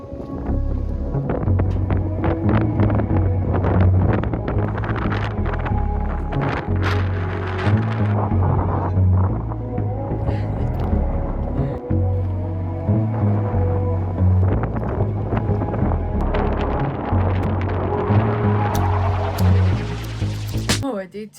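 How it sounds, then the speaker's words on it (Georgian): Strong wind at a lake buffets the microphone in a loud, continuous low roar with gusty surges throughout, and faint voices occasionally come through underneath. "ქარი იყო საშინელი."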